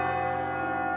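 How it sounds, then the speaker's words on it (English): Clock tower bells in a video game ring out as a sustained, resonant tone with rich layered overtones, steady and loud across a single second with no voices. "The clock tower's bells rang out."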